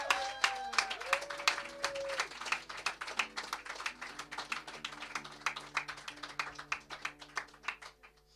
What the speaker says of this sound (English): Could we also have another round of applause for Benjamin for his fantastic support set?